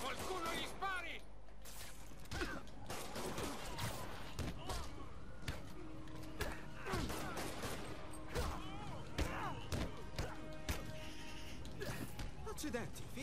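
Repeated gunfire bursts and impacts from the PlayStation 4 video game Marvel's Spider-Man, dense and continuous with thuds and mechanical clatter, under game voices.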